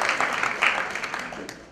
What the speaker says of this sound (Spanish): Fuerte el aplauso.